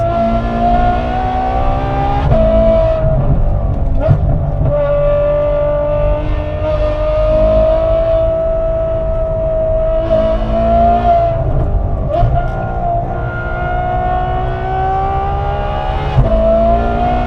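A Ferrari F12 driving fast on the Nürburgring, its engine loud and near as it revs and holds high pitch through gear changes, with brief dips and rises over a long stretch.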